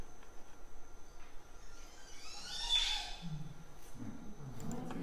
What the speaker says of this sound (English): Montezuma orapendula from the tropics.